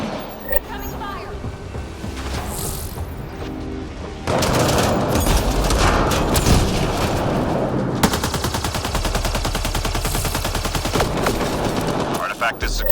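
Incoming gunfire in a video game rattles in long, loud automatic bursts, swelling heavier partway through and continuing almost without pause, with a voice speaking over it.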